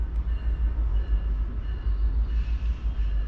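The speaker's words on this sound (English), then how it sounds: "And he's chugging." Freight train on the Lehigh Line moving slowly past, a deep rumbling low throb with a heavy pulsing rhythm, close and continuous with no talk.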